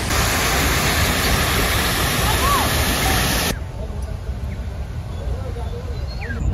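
A fountain at an eco park splashes in a dense, steady rush of water, loud and close. The sound drops abruptly to a softer, more distant spray about halfway through.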